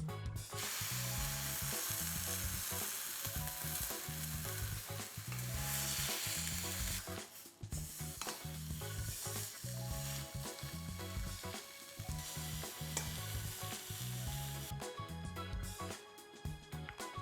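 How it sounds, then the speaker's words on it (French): Beef for tataki seared on all sides in a hot pan, a loud, continuous close sizzle and spit of frying that runs unbroken, with brief shifts as the meat is turned. "On va saisir notre viande sur toutes les faces."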